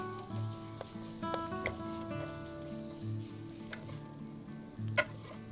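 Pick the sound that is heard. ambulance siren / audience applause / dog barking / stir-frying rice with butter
stir-frying rice with butter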